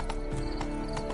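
A horse's hooves gallop steadily in The Witcher game, a continuous, dense rhythmic drumming of hoofbeats, close and fairly loud, through the whole short stretch.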